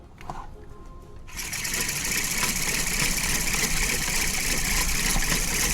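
A homemade hand-crank dynamo is cranked hard, building from a faint start into a loud, steady whirring drone that holds continuously, with no voices over it.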